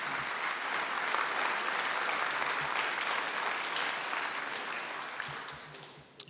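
Audience applause at a gubernatorial debate, a steady, dense wash of many hands clapping that holds evenly for several seconds, then thins and fades out near the end.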